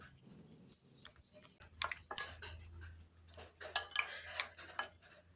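A spoon clinks and scrapes against a bowl while a pineapple dish is mixed, giving irregular close taps and knocks with short pauses between them.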